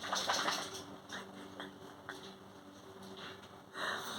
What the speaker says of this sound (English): My dog's having a sneezing fit